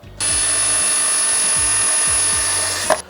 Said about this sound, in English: I can just use a power drill.